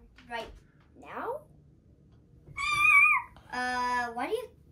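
A young girl pretending to be a cat mimics meows at home, giving a few drawn-out, rising and falling cries with quiet gaps between them, close and fairly clear.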